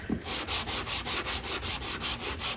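On a BMW body repair, 180-grit sandpaper works over body filler with steady rhythmic back-and-forth rasping strokes, about five per second, close and alone.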